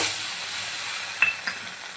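Red chilli and coriander paste frying in hot oil for mutton paya bhaji, a steady close sizzle and hiss with a couple of brief stirring scrapes, no talking.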